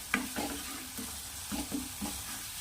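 Flat beans with turmeric and red chili stirred in a pan, a soft sizzle under several distinct clinks and scrapes of a spoon, close and fairly quiet.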